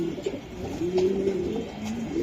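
A molting racing pigeon gives low, rolling coos up close, one soft throaty call drawn out over a faint background hiss.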